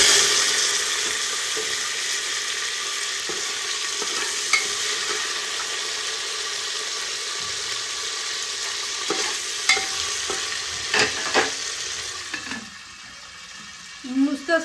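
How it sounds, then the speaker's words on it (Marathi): Washed peas go into a pot for matar pulao, and a steady sizzle and frying hiss fills the pot while a spoon stirs and clinks against the metal now and then. "मी एक वाटीभर मटार धुवून घेतले, ते आपण ह्यामध्ये टाकायचे"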